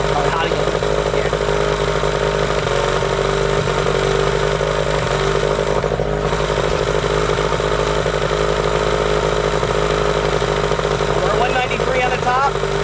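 A 1998 15hp Johnson outboard motor runs steadily with a little throttle applied, a loud continuous buzzing drone that holds throughout, with some voices faintly present underneath.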